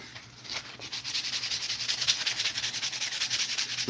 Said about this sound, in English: if I grab a piece of sandpaper and I sand this piece of wood